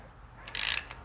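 A wrench torquing bolts on a Gen 3 5.3 engine to 18 foot-pounds gives one brief, close burst of quick metallic clicks in a quiet garage.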